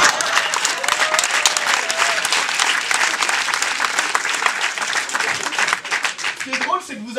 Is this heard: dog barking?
no